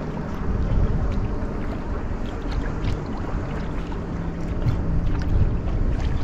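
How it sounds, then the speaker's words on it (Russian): Motorboat passing on the sea off Crimea, a low steady engine drone heard over wind noise and water from a kayak, fairly distant and continuous. "Едет катер."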